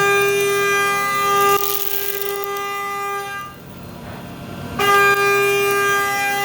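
A Walter 1.25-inch three-flute end mill cutting aluminum at 8,000 RPM, giving a loud, steady, high whine with strong tonal harmonics. The tone breaks off for about a second, then resumes close up without talk.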